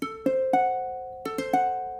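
Piano diminished triad, arpeggiated upward as three separate notes twice in a row, each note clear and ringing with a fast decay, unaccompanied.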